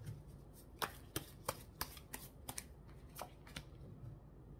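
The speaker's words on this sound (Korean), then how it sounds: "무의식 카드로 조언 좀 뽑아볼게요." Tarot cards are shuffled and drawn during a reading, with a series of sharp, quiet card snaps and flicks spaced irregularly about every third of a second, close up and alone against a faint background.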